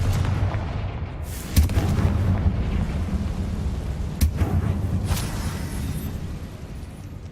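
Confringo blasting curse explosions in the Hogwarts Legacy video game: two sharp booming bursts ring out over a steady rumbling game backdrop, with a fainter crack between them and more after.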